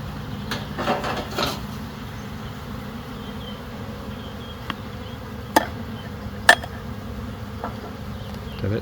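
Honey bees, mostly nurse bees, buzz steadily inside a sample jar holding about a quarter cup of them for a hive health check, a continuous close drone with a few faint knocks and taps.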